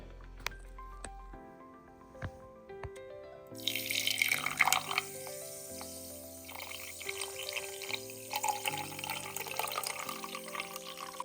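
Water pours into a container over vitamin C and zinc tablets, with soft background music, a splashing rush that starts a few seconds in and continues steadily.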